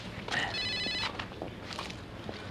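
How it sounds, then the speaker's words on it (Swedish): A mobile phone ringtone rings indoors, a bright repeating electronic melody lasting about a second, followed by light rustling and movement as the phone is picked up. "Vill din telefon ringa?"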